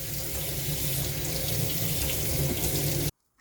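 Tap water runs into a sink to rinse dried pollack, a close, steady splashing gush that stops abruptly at the end, with no talking.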